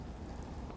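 Rain in Fallout 4, a soft, steady hiss with low rumble, faint and continuous through a brief moment, without talk.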